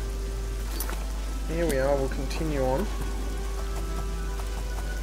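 Steady rain falls in the Oblivion video game as a constant soft hiss with a low hum beneath it, while someone speaks briefly over it.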